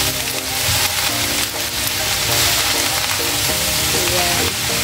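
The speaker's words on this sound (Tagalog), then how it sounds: "Gisa-gisa lang natin." Cabbage sautéing in a hot pan as a stir fry, giving a loud, steady sizzle and crackle that holds evenly throughout with no talking.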